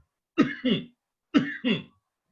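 Two short bursts of coughing, each a quick double hack, close and clear with a pause between them, no talking.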